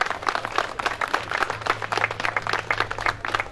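Crowd applause at the outdoor opening of a street workout park in Vanadzor, Armenia: a dense, steady patter of many hands clapping at moderate distance for several seconds.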